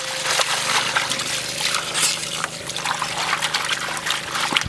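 Steady water running and splashing from a tap while leafy greens such as water spinach are rinsed by hand, a continuous close trickle and pour with no talk.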